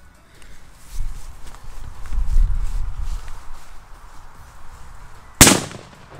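A 2-gram firecracker bursts once in a sharp, loud crack near the end, after several seconds of low rumbling handling and shuffling noise outdoors in an open spot.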